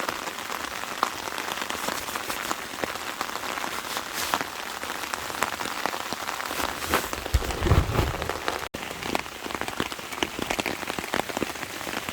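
Heavy rain drumming on a tarp over a hammock camp at night, a dense steady patter that stays loud and continuous throughout.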